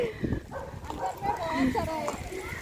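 Dogs barking at a distance, overlapping with a nearby voice talking.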